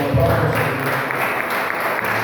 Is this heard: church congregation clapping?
yes